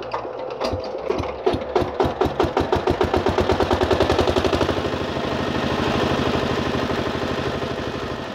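A newly bought power tiller's engine runs right after being started, firing in rapid, evenly spaced thumps that quicken and merge into a loud, steady chugging close by.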